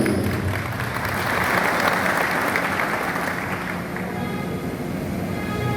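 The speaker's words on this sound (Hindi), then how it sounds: "उसके लिए प्लीज जोरदार ताली बजा दीजिए" A crowd at a community brotherhood gathering bursts into sustained applause, a thick, even roar of many hands heard from the middle of the audience, continuing without a break and with no clear talk over it.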